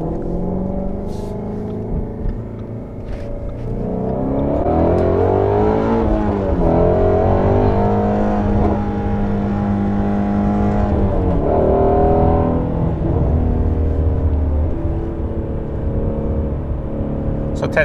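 A Ford Shelby GT350 sports car pulls away, its engine note climbing and dropping through several gear changes, loud and close from inside the car, with a voice heard briefly underneath.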